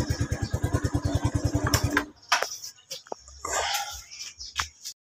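A Yamaha Mio Sporty scooter's electric starter cranks in a rapid, steady rhythm for about two seconds until the engine catches, followed by scattered clatter and light workshop noises close by.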